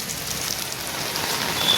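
Morning rain drums steadily on an umbrella overhead, a dense, even patter with no pauses, close and fairly loud throughout.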